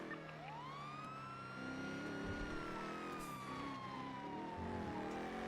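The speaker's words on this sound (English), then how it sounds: "I heard sirens" Police siren in the NoPixel roleplay video game, a faint wailing tone that rises and falls slowly over a low vehicle rumble, sounding distant.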